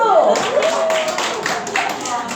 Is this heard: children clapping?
yes